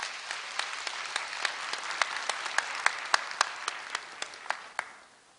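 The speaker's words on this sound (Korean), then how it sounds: "염재호 총장님을 큰 박수로 맞이해 주시기 바랍니다." Audience applause at Korea University's 109th degree conferment ceremony, welcoming university president Yeom Jae-ho, with steady clapping from a large hall crowd and individual sharp claps standing out before tapering off at the end.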